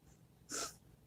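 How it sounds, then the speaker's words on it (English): A single short, sharp sniff from a person, faint against a quiet room. "I'm very sorry for the sniffing."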